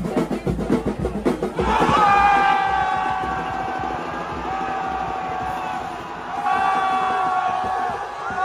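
A crowd roars in reaction to a goal at an Inter Miami football match, a sudden loud swell of cheering after some rhythmic thumping, sustained and then rising again near the end.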